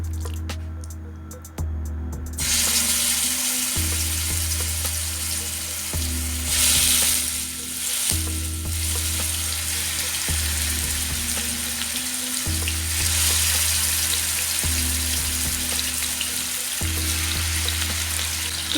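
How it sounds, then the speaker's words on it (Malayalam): Chicken pieces fry in hot olive oil for a shawarma sandwich filling, giving a loud, steady sizzle with crackle and occasional stirring, no voices. "ഓയിൽ ചൂടായിട്ടുണ്ട്. ഇനി ഇതിലേക്ക് ചിക്കൻ പീസസ് ആഡ് ചെയ്യാം."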